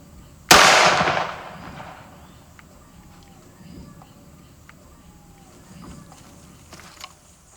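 A single loud, close gunshot cracks outdoors, then decays into quiet ambience with faint rustling and insects.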